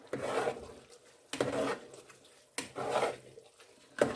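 Half-cooked rice being stirred into cooked vegetables in a pan, four rhythmic scraping and rubbing strokes of a spoon, close and moderately loud with no talking.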